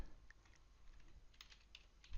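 Quiet, rapid keystrokes on a computer keyboard, soft irregular clicks typed at close range on a Windows PC running a Kali Linux command session.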